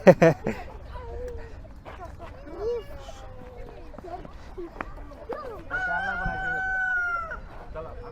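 At a park, a rooster crows loudly with long drawn-out calls while hens cluck nearby, and people talk and laugh in the background.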